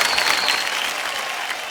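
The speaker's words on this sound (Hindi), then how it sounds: "तालियों के साथ आपका स्वागत।" A studio audience on the KBC India quiz show breaks into loud, dense applause, a continuous burst of many hands clapping close by.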